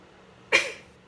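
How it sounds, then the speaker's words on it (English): A single sharp sneeze bursts out of near silence, loud and close, then quickly fades. "Sorry for sneezing in your video."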